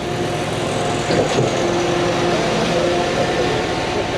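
Concrete line pump engine running steadily with the auger turning while pumping for a stamped concrete patio, a constant loud mechanical drone and hum close by with faint rattling on top, no talking.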